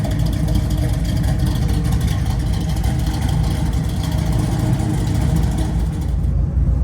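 A 1972 Chevrolet Nova muscle car engine idles with a steady, loud, continuous rumble throughout, close by, with no talking.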